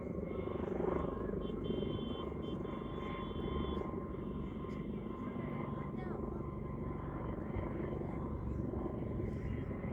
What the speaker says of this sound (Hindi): वो देखिए जा रहा है हेलीकॉप्टर।